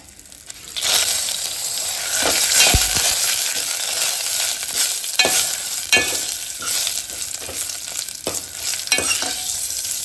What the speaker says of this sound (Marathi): तडका दाळ जी आसता ताका नॉर्मल फोडणी घालता पळय तशीच घातल्या हांवें.